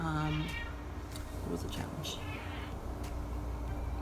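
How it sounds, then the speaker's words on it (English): A pet cat meows briefly near the start, a close tonal call, followed by someone talking over a steady background hum. "that's my cat"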